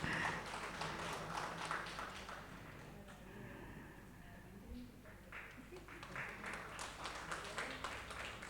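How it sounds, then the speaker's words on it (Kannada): An audience at a stage event applauds: a dense patter of many hands clapping that carries through the whole stretch at moderate distance, with a voice speaking over it part of the time. "ತಮ್ಮೆಲ್ಲರ ಪ್ರೀತಿಯ ಚಪ್ಪಾಳೆ."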